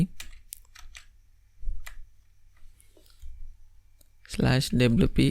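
Keys clatter on a computer keyboard in a few quiet, sparse bursts while a WordPress login address is entered, and then a person begins talking.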